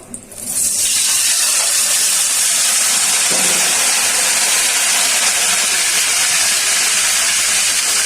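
Onions hit hot oil left from frying rohu fish, and a loud hissing sizzle bursts up at once and stays dense and steady throughout, close by.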